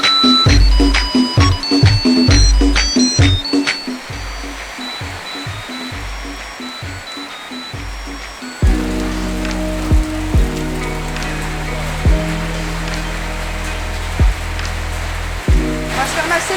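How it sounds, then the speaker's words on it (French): Heavy rain pours down in a dense, continuous hiss, joined by sharp knocking hits early on and a deeper droning layer in the second half, with no voices. "la pluie fait tellement de bruit qu'à mon avis vous ne m'entendez pas"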